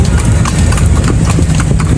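Horse hooves clip-clop steadily and close for a horse-drawn carriage on a Manila tour, a continuous trotting rhythm over a dense low rumble of street noise.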